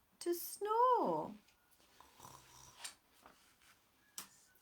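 A storyteller vocally imitates snoring during a read-aloud, with one drawn-out nasal snore followed by quieter snorts and breathy rasps, close and intimate against near silence.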